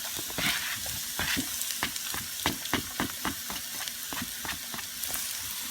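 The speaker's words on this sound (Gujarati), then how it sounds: "તો પહેલાં આપણે એની અંદર નાખી દઈશું આપણી ડુંગળી." Onion goes into a pot and fries for a vegetable pilaf, giving a close sizzle broken by repeated sharp clicks and scrapes of stirring in an uneven rhythm.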